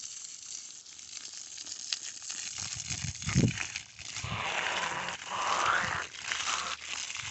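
Water sprays to wet the ground in a hot-weather animal yard, a steady hissing rush that shifts in intensity, with a brief thump partway through.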